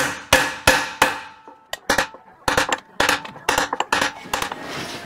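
Metal rings under a series of blows from a hammer shaping steel plate on a rusty dolly for a Ford F100 truck bed, irregular and close, sharp clangs with short pauses between groups.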